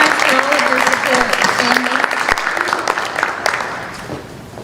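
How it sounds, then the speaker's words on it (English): Applause for school families at a school board of education meeting, moderately loud clapping fading gradually toward the end, with some voice or tonal sound mixed in early on. "we'd like to give you a round of applause because you are being successful with this."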